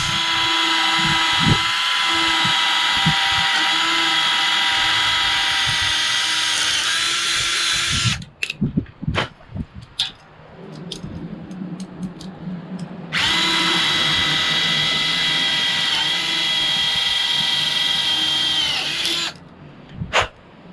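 A power drill bores holes in the body of a Suzuki Samurai with a 1.9 diesel engine while a snorkel is being fitted, giving two long, loud, steady high-pitched whines separated by a pause of clattering handling noises, with a brief burst at the end.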